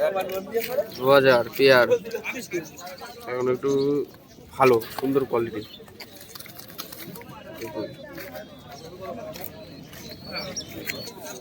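Kalshira and lalshira pigeons cooing in a cage at the Birnagar market, low soft coos mixed with nearby voices speaking over them.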